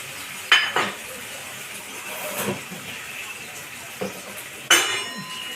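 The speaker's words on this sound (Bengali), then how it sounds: "এবার আমি ওটা দিয়ে দেবো এরপরে দিচ্ছি টমেটো" Tomatoes and a ground paste of garlic, ginger, green chilli and cumin go into a hot cooking pan for a rohu fish curry, giving a couple of sharp clinks against a steady soft sizzle and stirring, close by with no talk.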